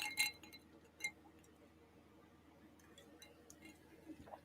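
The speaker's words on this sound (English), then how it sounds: "You hear the clinking of my Cointreau on ice." Ice cubes clinking in a glass of Cointreau, a couple of faint bright clinks early on, then quiet with small ticks over a low room hum.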